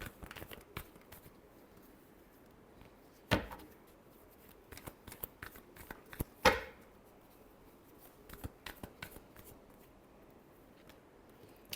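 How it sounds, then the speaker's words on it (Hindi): Tarot cards shuffled by hand, quiet soft riffling and papery flicks in scattered bursts, with a couple of sharper louder snaps of the deck; no voices. "last shuffle"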